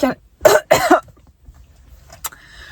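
Two sharp, close coughs from a man at a private school table, followed by a quieter throat sound, with faint background noise and a brief clatter afterward.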